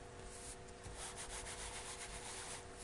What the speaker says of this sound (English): I'm going to take my ink pad and I'm going to rub right over the top